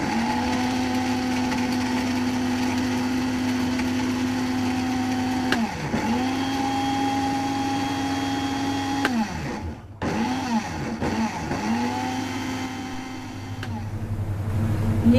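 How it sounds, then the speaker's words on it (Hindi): Electric grinder whirring at a high steady pitch as it powders whole spices for biryani masala, with a continuous motor drone briefly dipping and surging midway as the load shifts, then resuming. "अभी मैं ये तमाम मसाले पीस रही हूँ जो पीसने वाले हैं।"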